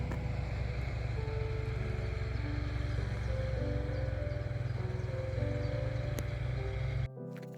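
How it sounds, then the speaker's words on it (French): A steady motor drone from a tractor working somewhere along a rural walking route in France, a low, even hum that runs unbroken and then cuts off abruptly near the end. "il y a un bruit de tracteur"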